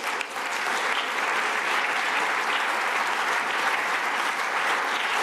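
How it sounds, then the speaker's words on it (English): Audience applause for two speakers at the Munich Security Conference 2022, a steady, dense clapping from a large hall crowd filling the whole stretch without a break. "Let me propose that we offer a round of applause to our two speakers."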